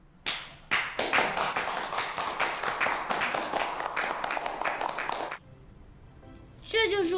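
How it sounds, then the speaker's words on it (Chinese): A small group claps at a business gathering, a burst of steady applause lasting several seconds that stops abruptly, followed by a brief quiet stretch and a short spoken voice. "鼓掌"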